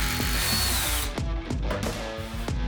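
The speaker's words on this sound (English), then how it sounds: "And I'm putting the biggest drill bit, the 1/2 inch." A power drill fitted with a half-inch bit whines at high speed, close and loud. It holds steady at first, then drops through several short bursts and stutters as the bit bites into the work.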